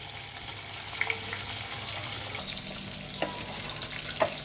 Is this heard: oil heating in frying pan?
yes